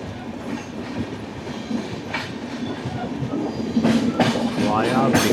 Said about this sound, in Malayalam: ഇത് നോർത്ത് വെസ്റ്റേൺ റെയിൽവേയുടെ ട്രെയിനാണ്.